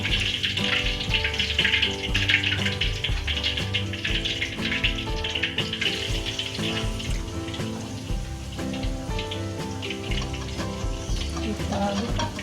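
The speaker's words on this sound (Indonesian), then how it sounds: "Kita goreng lagi." Chicken pieces for ayam geprek, a Minang-style recipe, sizzle in hot oil during a second frying, a steady close bubbling hiss lasting throughout beneath continuous tonal background music.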